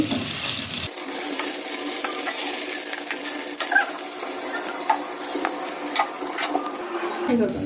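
Chicken pieces fry in a hot pan in a home kitchen, a steady broadband sizzle running throughout with light metallic clinks and stirring taps scattered on top, close and fairly loud.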